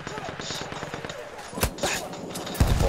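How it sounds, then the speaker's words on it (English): Machine gun fire in the Battlefield 1 video game comes in sharp bursts of rapid shots, loud and punchy, mixed with other battle noise and voices. "Machine gun."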